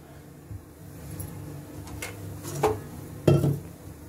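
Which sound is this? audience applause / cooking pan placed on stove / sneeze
cooking pan placed on stove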